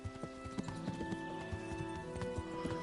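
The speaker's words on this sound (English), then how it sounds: "You can only gallop the horse depending on your level of your horsemanship" A horse gallops in the Kingdom Come: Deliverance video game, its hooves making a steady, rhythmic clip-clop. Game music plays softly underneath.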